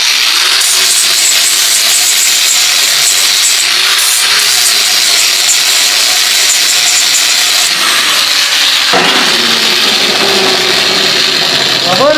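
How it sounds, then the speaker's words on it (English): A pneumatic air grinder cleans out the rough insides of drilled holes in a steel welding table, whining loud and continuous near the mic with shifts in pitch and load as the bit works through the metal. "Then we're going to take our air grinder. And we're going to clean up the inside of the holes real good."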